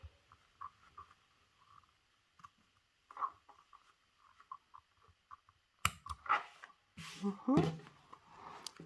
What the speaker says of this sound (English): we're just cutting the external fabric